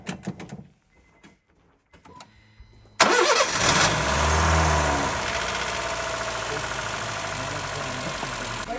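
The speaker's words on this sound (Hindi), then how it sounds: "गाड़ी स्टार्ट कर दीजिए जल्दी" A Honda City i-VTEC car engine cranks and catches after a few quiet seconds of faint clicks, then settles into a loud, steady idle close by.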